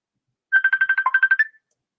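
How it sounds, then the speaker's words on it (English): Phone ringtone from an incoming call, a rapid burst of about a dozen bright repeated beeps lasting about a second, close and clear in silence. "So she's calling on my phone here."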